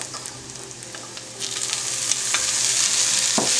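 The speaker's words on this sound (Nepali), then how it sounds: "अब यसमा हामी टमेटोज राख्छौँ" Tomatoes go into onions that are already frying for a Nepali noodle dish, and a close, loud sizzle swells and holds steady, with a few stirring scrapes and no voices.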